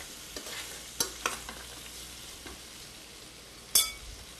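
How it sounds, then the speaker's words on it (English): Walnuts heating and toasting in a pan, a low steady sizzle broken by a few sharp scrapes and clinks of a utensil stirring them, with no voices. "Heating up the walnuts is what I'm doing."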